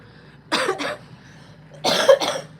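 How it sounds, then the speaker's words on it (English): Two separate coughing bouts from someone recovering from bronchitis, each a quick pair of harsh coughs, close and fairly loud against a quiet room. "Excuse my cough, I'm still getting over bronchitis."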